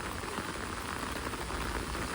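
Rain falls steadily in Shillong, Meghalaya, a dense, even hiss of drops on surfaces with no pauses, fairly faint and uninterrupted.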